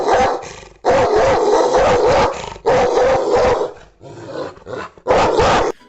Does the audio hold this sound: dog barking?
yes